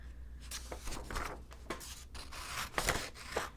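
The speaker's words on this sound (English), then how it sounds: "I'm going to cut out one of these circles with my fabric scissors" Fabric scissors cutting out a fabric circle, a series of soft, close crisp snips and slicing strokes at an irregular rhythm, fairly quiet and heard without talking.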